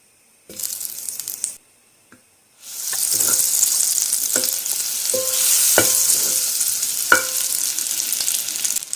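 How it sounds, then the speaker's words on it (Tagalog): Butter sizzles and fries in a cooking pan, a steady close hiss with stirring scrapes and crackles after a brief start-stop at the beginning. "So, maglagay muna ako ng konting oil. Butter yung ilalagay natin."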